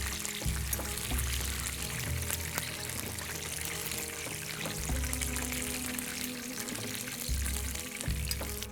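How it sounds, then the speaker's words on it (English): Used cooking oil from frying chicken being poured out of a pan, a continuous close trickling pour with intermittent low gurgles and faint sizzling. "Drain out my oil"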